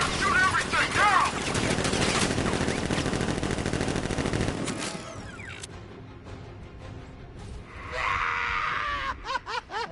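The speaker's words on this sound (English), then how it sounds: "Open fire! Shoot everything, now!" Dense automatic gunfire from a militia ambush in the Batman: Arkham Knight video game, loud rapid volleys that fade after a few seconds into scattered mechanical clanks and cries, with voices heard in the mix.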